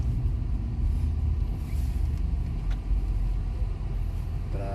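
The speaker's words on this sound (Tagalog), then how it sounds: "Traffic." Steady road traffic near a bottle-recycling trip to a scrap buyer, with a continuous loud low rumble of passing cars and heavier vehicles and no break in the flow.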